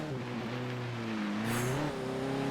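Honda Civic Type R accelerating in the racing game Forza Horizon 3, a loud, steady engine note that climbs in pitch, dips briefly with a gear change and then climbs again.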